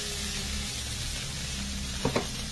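Beef sizzling in butter and garlic in a hot pan, a steady close frying hiss throughout with a couple of brief stirring clatters near the end.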